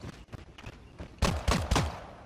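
A few quick gunshot pops early on in the video game Creative Destruction, then three loud, sharp blasts in fast succession near the end, with no voices.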